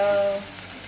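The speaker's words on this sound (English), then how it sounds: "keep stirring the veggies so that they don't burn" Chopped eggplant and other vegetables sizzle in a hot pan while being stirred for a butternut soup, a brief steady frying hiss with a faint tonal ring at the start.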